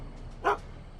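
A dog gives a single short bark in the Back to the Future video game, one brief close yelp over a faint steady background hum.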